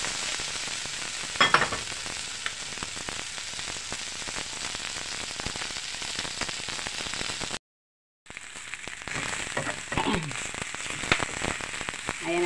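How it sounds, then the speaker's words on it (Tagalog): Rice and tomato fry in a pan with a steady, close sizzle and crackle throughout, broken by a brief silent gap, with faint stirring scrapes along the way. "Ito yung fried rice with tomato."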